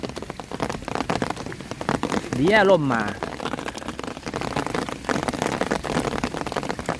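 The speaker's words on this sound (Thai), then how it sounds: "ฝนตกอย่างนี้ตั้งแต่ต้องได้" Steady rain falls over the river mouth at Rayong during a sea bass fishing trip, a dense continuous patter throughout, while someone speaks briefly in the middle.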